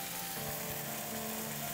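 A ribeye steak sears in a hot pan, giving a loud, continuous sizzle with a steady crackling hiss that holds unbroken throughout, with no voices.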